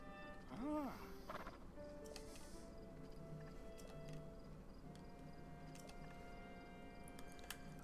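A horse named Spot in a Zelda video game gives a brief whinny near the start, followed by quiet game ambience with soft ticking sounds.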